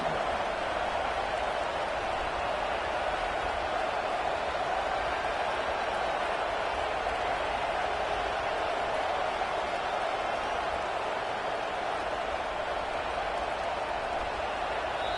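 A stadium crowd at a college football game sends up a dense, steady roar of noise that holds at an even level from start to finish, moderately loud and unbroken.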